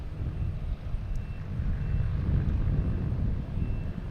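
An American Airlines airliner arriving from Heathrow at Boston Logan, a steady low jet engine rumble and roar that swells slightly midway and holds at moderate distance.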